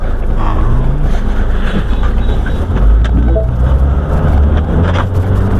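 A Mini Cooper being driven, heard from inside as a steady, loud low road and engine rumble that runs without a break, with light rattles over the top.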